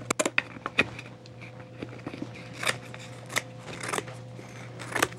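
Scissors cut through hat material sized to a head, a run of close, crisp snips, quick clusters at first and then spaced-out cuts, with no voices.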